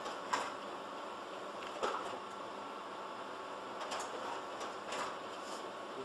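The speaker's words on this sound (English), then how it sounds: "these things print out, and this printer just does an outstanding job printing these papers out" Office printer running a double-sided print job on instruction booklets, a steady low mechanical whir with soft periodic clicks and paper-feed ticks, faint and continuous with no talking.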